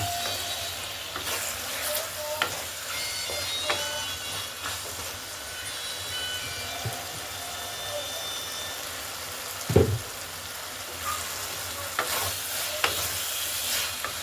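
Masala with green chillies frying in oil for a tengra fish curry, a continuous low sizzle with occasional scraping stirs and one louder clatter of a spoon against the pan.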